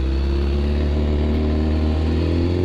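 A BMW S1000RR motorcycle engine with a misfire fault runs close by with a steady, throbbing low note and slight revving, loud and continuous with no voices.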